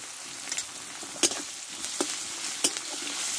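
Ginger paste frying in a pan with tomato, a constant close sizzle punctuated by several sharp scraping strokes of a spatula at irregular intervals.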